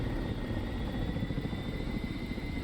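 Helicopter in the DCS combat flight simulator, a steady rotor and turbine drone holding at a constant level throughout, with a faint high whine above the low rumble.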